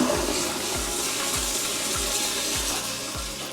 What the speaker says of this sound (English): Oh yeah, that's a powerful flush.